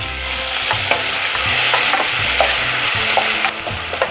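Tomatoes are added to softened onions and sautéed for a tamarind curry, with loud continuous sizzling and repeated rhythmic scraping of a spoon across the pan, close up and uninterrupted by speech.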